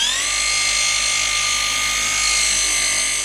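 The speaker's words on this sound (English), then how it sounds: "I'm telling you, with this polisher," A power polisher whirs steadily on the paint of a BMW E92 M3, its pitch rising briefly at start-up and then holding a loud, even, high whine throughout with no talking.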